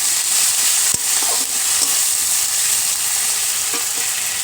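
Ginger garlic paste sautés with a steady high sizzle in a pan for a fish-head dal, with scattered stirring scrapes and a sharp knock near the start. No talking.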